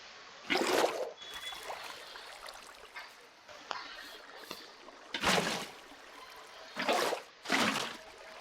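Water poured from a bucket in Minecraft splashes in several short, bright bursts, spaced apart over a faint steady background.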